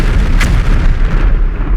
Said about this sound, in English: I suddenly heard a booming sound or an explosion sound